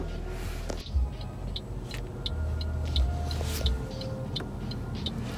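Car driving through a university campus, a steady low engine and road rumble heard from inside the cabin, with faint rhythmic ticking like a turn signal.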